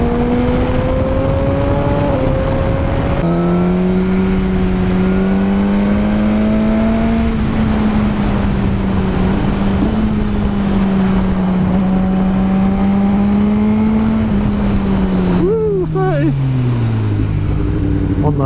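Suzuki GSX-R1000R sport motorcycle cruising on the road, its engine a steady loud drone that rises and falls slightly with throttle, with a drop in pitch near the end as it slows.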